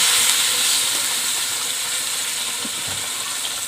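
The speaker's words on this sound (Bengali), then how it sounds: "তো বন্ধুরা সুন্দরভাবে কষানো হয়ে গেছে, আমি এখন জল দেব।" Water poured into fried spice paste for a Bengali fish curry sets off a steady, loud, close hiss of steam and sizzling that holds evenly throughout.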